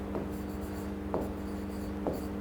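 Marker or chalk strokes on a board during a classroom lesson, three quick faint scratches spaced about a second apart over a steady background hum.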